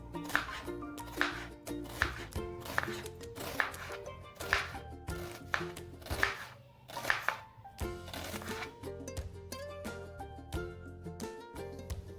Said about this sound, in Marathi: आपण वाटण बनवण्यासाठी तीन कांदे घेतलेले आहेत आणि त्यांना उभे उभे चिरून घेणार आहोत